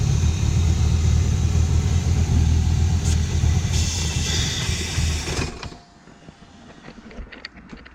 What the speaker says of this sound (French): je vais mettre ma main, vous allez voir, la voiture elle va soit elle va caler, soit elle va un peu mieux tourner